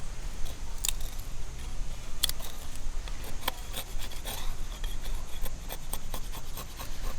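An ESEE knife with a 6-inch full flat grind and bushcraft handle scrapes and shaves at hard wood in short irregular strokes, close and fairly faint, with occasional sharp clicks and no talking.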